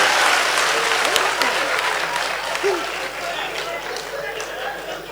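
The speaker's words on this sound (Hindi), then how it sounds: "ये तालियां कमजोर थी, आपकी तालियां का घनत्व बढ़ना चाहिए।" Crowd clapping at a Hindi comic poetry café event in Azamgarh, a broad wash of applause that starts strong and gradually thins and fades over several seconds.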